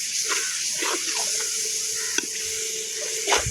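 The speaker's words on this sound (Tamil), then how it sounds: "தக்காளி நல்லா வதங்கணும், அது வரைக்கும் வதக்கிக்கலாம்" Tomatoes sautéing in a pan for chicken biryani, a continuous bright sizzle with a few soft stirring scrapes, close and steady.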